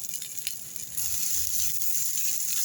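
Curry leaves and asafoetida hit hot oil in a Tamil-style yogurt tempering, giving a steady, close hiss of sizzling that grows a little louder partway through, with no talking.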